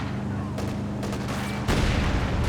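A burst of gunfire rattles out in the World War II strategy game Company of Heroes 2, part of a battle involving an M3 and a sniper, with scattered shots building into a sudden, louder crackling volley near the end.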